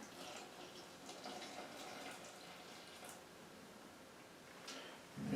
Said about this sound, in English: It's just regular cold tap water.